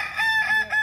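A Balenggek rooster from West Sumatra gives a close, loud, brief crow in stepped, melodic segments at a crowing contest held in rice fields.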